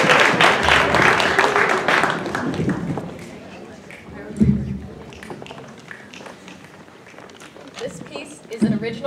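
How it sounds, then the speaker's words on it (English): A talent-show audience applauds, with stomping and snapping. Dense clapping and rustling starts strongly, then thins into scattered taps and thumps that keep going to the end. "stomp your feet, snap your fingers, make some noise to show Shelby that you appreciate it"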